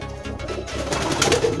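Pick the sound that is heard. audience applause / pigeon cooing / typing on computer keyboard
pigeon cooing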